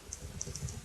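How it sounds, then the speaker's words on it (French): Arrow keys tapped on a computer keyboard while positioning shapes in Illustrator, a few soft, evenly spaced clicks close up and quiet over faint room noise. "moi je le fais avec la flèche du clavier, c'est un peu plus précis"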